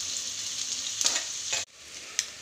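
Onions frying in a pan, a steady close sizzle broken by a few short stirring scrapes and clinks, with a sudden drop partway through before the sizzle resumes more softly.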